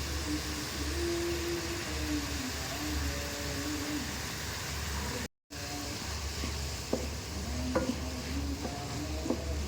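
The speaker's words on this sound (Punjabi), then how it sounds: "ਪਿਆਜ਼ ਦਾ ਕਲਰ ਜਿਹੜਾ ਆਪਣਾ ਚੇਂਜ ਹੋਣ ਲੱਗ ਪਿਆ ਵਾ ਤੇ ਬਸ 1 ਮਿੰਟ ਵਾਸਤੇ ਹੋਰ ਇਹਨੂੰ ਆਪਾਂ ਭੁੰਨਾਂਗੇ" Onions roasting in oil for a spicy Punjabi-style okra (bhindi) curry give a steady, close sizzle, with light stirring scrapes and taps through it and a brief drop to silence midway.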